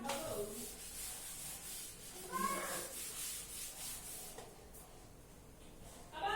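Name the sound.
rubbing the board clean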